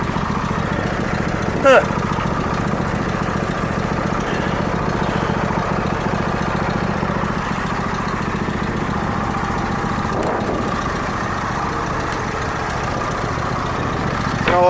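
A weed eater's small two-stroke engine idles steadily nearby, a continuous droning hum with little change, and a short voice is heard briefly.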